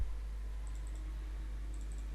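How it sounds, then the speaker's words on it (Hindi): A computer mouse double-clicks while someone works in CorelDraw 2021, giving two faint, quick bursts of clicks about a second apart over a steady low hum. "double click, double click,"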